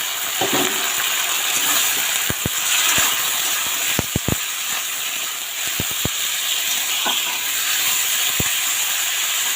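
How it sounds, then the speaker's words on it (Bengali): Steady hissing sizzle as chicken pieces are poured into a hot pan of fried onions, with a few sharp clicks and taps of utensils scattered through. "পেঁয়াজটা ভাজা হয়ে গেছে এর মধ্যে আমি মাংসগুলো ঢেলে দিই"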